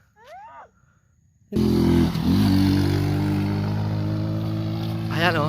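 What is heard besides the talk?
motorcycle climbing a steep road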